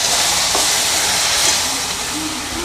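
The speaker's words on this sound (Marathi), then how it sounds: "आता लगेच आपण वेलायचीची पूड टाकून घ्यायची आणि मग दूध टाकायचं आहे आपण" Milk poured into a hot pan of mango semolina sheera with cardamom powder gives a loud, steady hissing sizzle that slowly fades toward the end, close up with no talk.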